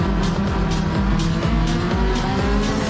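Race car in a Ferrari racing video game at Suzuka, sliding on a wet track on intermediate tyres: a steady loud engine drone with repeated rising gear-shift sweeps and tyre squeal, continuous with no talk.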